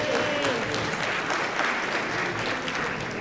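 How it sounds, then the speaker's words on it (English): A round of applause at an awards celebration honoring women: steady, dense clapping from an indoor audience, loud and sustained throughout with a few faint cheers. "Let's give a round of applause for that."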